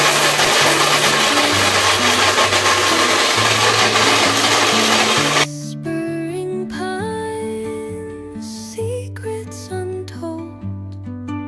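A mixer grinder whirs loudly as it grinds whole spices such as carom seeds, cinnamon and chickpeas, a steady harsh roar that cuts off abruptly after about five seconds, leaving background music playing alone.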